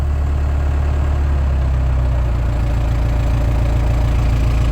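Bitelli BB642 gas screed engine idling steadily at tick over with no revs, a continuous low rumbling drone with a faint rhythmic knock throughout, close and fairly loud, no voices.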